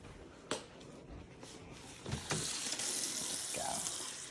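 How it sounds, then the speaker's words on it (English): Tap water runs into a small paint-rinsing dish at a sink, starting with a brief splash and then settling into a steady, close hiss of flowing water with faint clinks. "Just gonna get a little touch of water in my dish."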